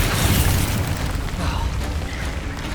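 Bombarda spell blasts in Hogwarts Legacy, a continuous run of heavy low booms and crackling bursts during a hectic magical fight, loud and close with no pause.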